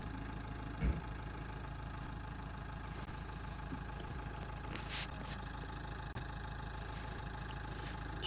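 A car engine idles steadily during a diesel particulate filter cleaning test with foam cleaner, a continuous close, low rumble with a faint knocking texture and a couple of brief clicks on top.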